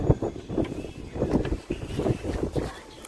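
Strong wind buffets the microphone on the Girnar hills, a continuous low rumble that surges and dips in gusts, with no voices.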